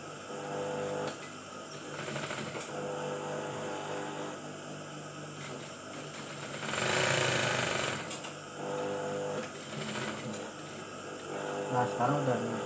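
A sewing machine stitches stiff interfacing and batik shirt fabric, whirring steadily at close range with brief pauses and a louder, busier burst midway, while a voice talks over it.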